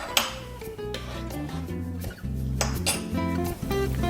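Coffee powder being mixed with boiling water in a cup, close clinks and scraping of a spoon against ceramic, a sharp tap at the start, then steady rubbing strokes, with no talking.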